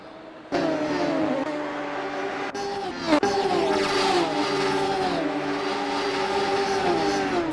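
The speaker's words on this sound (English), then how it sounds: "Adam Tyus can probably hear that engine behind him" A Radical SR3 race car engine howls at Road Atlanta in the racing game Assetto Corsa, loud and sustained, with a brief gear-change dip before climbing and holding at high revs.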